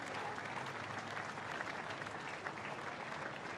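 Crowd applause along the route of the Anzac Day parade in Brisbane, a continuous wash of clapping from many spectators, even and sustained, with no voices standing out.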